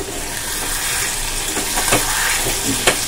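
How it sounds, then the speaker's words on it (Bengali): Spice masala sautéing in a pan after being uncovered gives off a loud, steady sizzle, with a few sharp scrapes and knocks from stirring scattered through it. "সুন্দর করে দেখো আমি কষিয়ে নিচ্ছি, মশলাটা দারুণ গন্ধ বেরোচ্ছে একটা"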